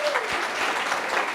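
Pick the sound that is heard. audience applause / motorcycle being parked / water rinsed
audience applause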